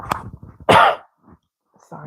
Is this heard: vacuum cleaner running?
no